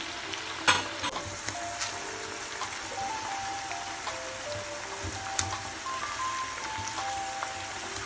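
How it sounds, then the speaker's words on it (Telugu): Ingredients for a broad bean chutney fry in hot oil until golden, giving a steady, close, rain-like sizzle with occasional louder stirring clacks and no talking. "ఇది గోల్డ్ కలర్ వచ్చేదాకా వేయాలి వేగతో చాలా బాగుంటుంది టేస్ట్"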